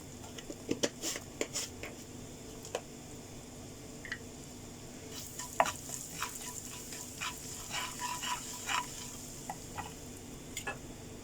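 Cumin seeds and asafoetida crackle in hot oil in a kadhai, a low steady sizzle with scattered pops and ticks that grow busier toward the end.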